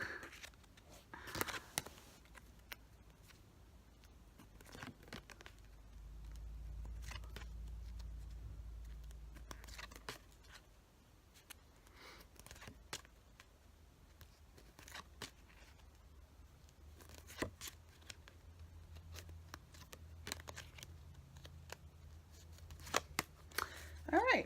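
Soft papery flicks and riffles of tarot cards being shuffled by hand, coming in uneven bursts with quiet pauses and a low rumble in between.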